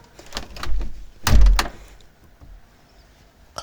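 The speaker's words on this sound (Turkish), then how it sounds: "Kapı kapanıyor." A door closing in the video game Hello Neighbor, heard as a couple of close, heavy thuds and rumbles early on, then fading to quiet room tone.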